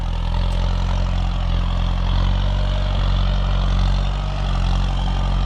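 A tractor's diesel engine drones steadily and loudly at low revs while pulling a disc plough through overgrown grass, a deep continuous rumble with slight swells, no voices over it.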